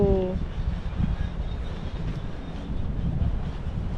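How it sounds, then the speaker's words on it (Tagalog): Loud, steady wind roars and buffets across the microphone on Boracay island, a constant rumbling wash of noise with a brief tonal whine at the start. "Malakas lang yung hangin ah."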